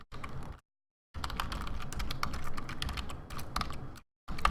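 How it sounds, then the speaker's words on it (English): Rapid clicking keystrokes on a computer keyboard, close and clear, come in bursts separated by brief silent pauses, with no voices. "I keep typing in this."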